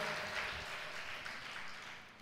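Applause from a church congregation during a Christian sermon, broad and steady across the whole stretch at moderate distance, with a faint voice underneath.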